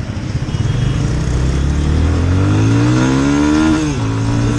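Yamaha FZ25 motorcycle engine revving hard and holding against its rev limiter, a loud close-up steady drone with rising pitch that bounces and stutters at the limit before easing off, no voices.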